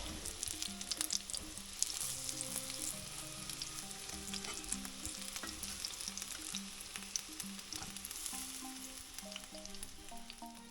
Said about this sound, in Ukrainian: смажити наші цибулеві оладі.